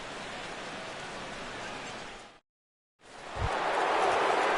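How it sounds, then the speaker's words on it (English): Steady hiss of rain pours down in a baseball video game, a continuous wash that cuts out briefly to silence, then returns slightly louder with a low thump. "the rain continues to fall here"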